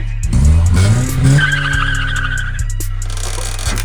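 A BMW E36 drifts with its tires skidding, a loud close squeal sweeping upward over a roaring engine that settles into a steady drone.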